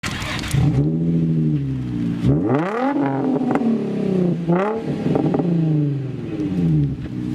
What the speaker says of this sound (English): Add an aftermarket exhaust to that glorious V6